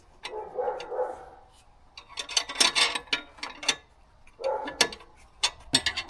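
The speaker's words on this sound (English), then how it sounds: "So here's a space for the spanner to go in, catch on the bolt." Ratcheting spanner clicks in quick bursts as a bolt is tightened on a Toyota MR2 fitted with a VW turbo engine swap kit, close and sharp, separated by brief pauses and softer fumbling rubs.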